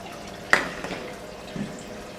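Mezze maniche pasta cooks in a pot of boiling water in a Rome kitchen, giving a quiet, steady simmering hiss with one sharp clink near the start and a soft bump later.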